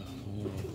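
Black-faced pigeon cooing, a short low throaty coo heard close amid a faint background murmur.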